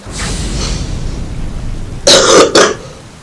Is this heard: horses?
no